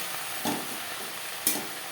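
Telakuchi greens frying in a pan are stirred, giving a steady close sizzle broken by two sharp scraping strokes of the spatula against the pan.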